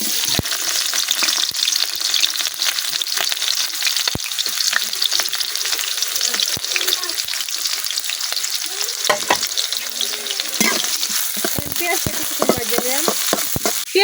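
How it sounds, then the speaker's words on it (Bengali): Chopped onion frying in hot oil in a wok over a village stove, a steady loud sizzle with scraping stirring strokes throughout and no talk. "এখন তেলের মধ্যে দিয়ে দিতেছি কাটিয়ে পেঁয়াজ"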